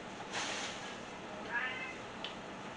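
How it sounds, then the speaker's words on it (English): A pet cat named Jibber meowing indoors, two or three soft, drawn-out meows spread over a few seconds at a fair distance, with no talk over them. "Don't mind my cat."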